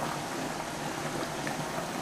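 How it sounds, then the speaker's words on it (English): A pot of water at a strong, rolling boil, giving a steady dense bubbling hiss close by that runs unbroken with no voices. "Pot's boiling real good here."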